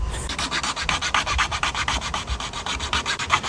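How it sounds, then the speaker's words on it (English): A chainsaw file rasps nocks into wood in quick, steady back-and-forth strokes, about twenty close-up scraping passes in a row with no talking. "So I'm going to cut these nocks in with a chainsaw file."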